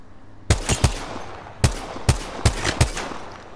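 Six sharp gunshots from the Ballistic legend's weapon in the battle-royale game Apex Legends crack out in an irregular burst, each with a short decaying tail, loud and close with no talking.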